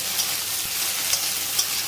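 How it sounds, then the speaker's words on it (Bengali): Vegetables for a tamarind curry with okra, eggplant and shrimp fry in a pan, giving a steady, close hiss of sizzling oil with a few small pops and stirring scrapes, and no talk over it. "তো দেখো আনাজটা একটু ভাজা ভাজা করে নেবো"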